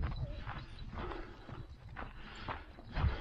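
Horses walk nearby, hooves striking the ground in an uneven clip-clop rhythm over a low outdoor background.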